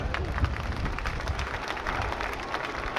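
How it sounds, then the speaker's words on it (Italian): Audience applause at an air show in Jesolo, a steady wash of clapping from a crowd that sounds moderately distant, with no pauses for about three seconds. "Un bel applauso amici, forza!"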